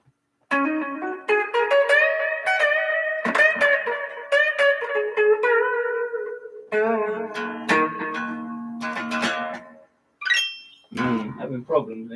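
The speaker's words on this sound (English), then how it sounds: "Delay and reverb." Electric guitar through a Fender Super-Champ XD amp using delay and reverb, sustained chords and picked notes played up close, echoing tails trailing after each phrase, with a brief gap before a final few ringing notes.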